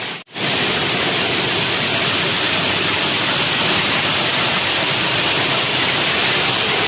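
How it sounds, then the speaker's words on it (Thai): Mae Kasa waterfall in Mae Sot, Tak province, Thailand: a loud, close, unbroken roar of falling water that starts after a brief cut and holds steady with no talking. "น้ำตกแม่กาสา แม่สอดจังหวัดตาก"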